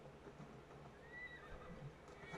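Horse in Assassin's Creed Valhalla neighs with a rising and falling whinny over faint clip-clop of hooves, quiet and somewhat distant against a soft game background.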